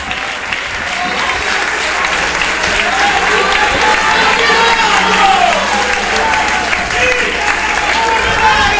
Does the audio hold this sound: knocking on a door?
no